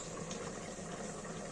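Onions dropped into hot oil for malai chicken give a dense, steady hiss of frying that fills the whole moment, close and loud with no voices.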